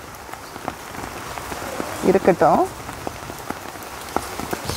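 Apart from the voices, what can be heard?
rain falling in a garden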